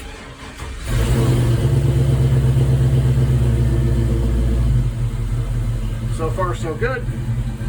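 A 1999-2002 Gen 3 LS swap V8 starting for the first time and settling into a steady loud rumbling idle close by, with someone talking briefly near the end.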